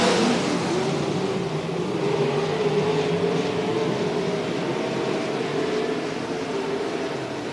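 Race cars roar steadily around an oval track in a continuous loud engine drone, several cars passing down the back straightaway without a break.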